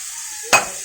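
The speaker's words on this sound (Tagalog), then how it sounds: "Stir it up" Spicy Cajun shrimp fries in a pan under a steady high hiss, cut by a single short scrape of stirring midway.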